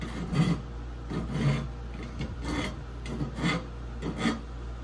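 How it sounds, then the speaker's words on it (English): Small round file rasping inside a freshly cut copper pipe to remove interior burrs, quiet repeated scraping strokes in an even rhythm over a low steady hum. "Got a little round file. Just get rid of those interior burrs."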